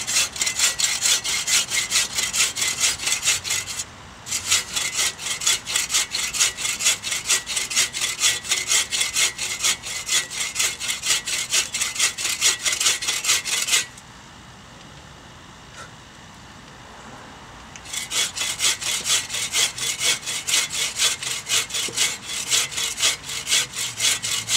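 Agawa Canyon Boreal21 folding saw cutting through wood with fast, steady rhythmic rasping strokes, close and loud, pausing briefly twice before resuming until the cut is nearly through.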